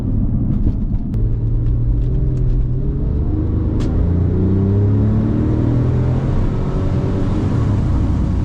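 A 997-generation Porsche 911 Turbo engine pulls hard under acceleration, a continuous rising drone with shifting tones over strong road rumble and a few faint clicks early on.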